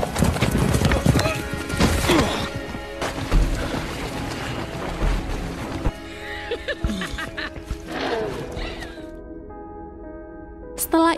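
Horse hooves clip-clop rapidly and a horse whinnies during a film scene of a galloping ride and a fall, loud and close over dramatic background sound with talk mixed in.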